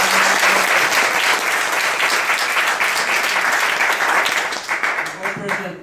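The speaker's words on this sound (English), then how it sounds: "Let's give him another round of applause, please." Room of attendees at a college board of trustees meeting gives sustained applause that fades in the last second, with voices talking as it dies down.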